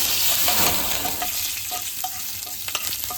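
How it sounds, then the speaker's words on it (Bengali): Loud, continuous sizzling of curry leaves frying in hot tempering oil, with occasional light scrapes from stirring. "এবারে কয়েকটা কারি পাতা দিয়ে দেবো, দিয়ে একটু নাড়াচাড়া করে নেব।"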